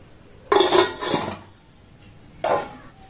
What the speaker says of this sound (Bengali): এবার এটাকে আমি ঢাকা দিয়ে দেব।